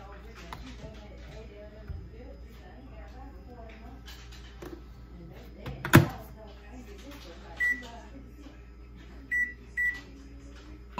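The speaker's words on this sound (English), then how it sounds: "you put it in the microwave for like 4 minutes" A microwave oven heating Argo starch chunks on high hums steadily, with a sharp clunk midway and a few short beeps later, while a voice talks faintly.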